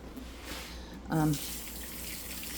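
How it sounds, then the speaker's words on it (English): Kitchen tap water runs while sticky hands are rinsed during apple butter making, a steady soft rush of flowing water with a brief voice-like sound partway through. "Let me rinse my hand off."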